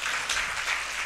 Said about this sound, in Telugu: చప్పట్లు కొట్టి దేవుని స్తుతించు